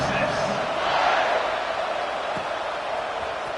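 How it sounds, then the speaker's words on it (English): A football stadium crowd in a Colorado vs Texas video game buzzes after a touchdown, a steady broad roar that swells slightly, then holds at an even loud level. "this crowd is buzzing after that last score"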